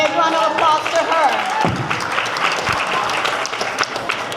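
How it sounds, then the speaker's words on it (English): An audience applauds Assemblywoman Lisa Calderon, chair of insurance, at an SGV Caucus event, with loud, sustained clapping and a few cheers filling the room, and a voice briefly heard at the start. "Lisa Calderon, big round of applause to her."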